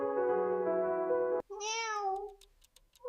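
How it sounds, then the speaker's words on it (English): A domestic cat gives a single clear, drawn-out meow right after a steady sustained tone cuts off, close and distinct with little else around it. "the next time your cat meows"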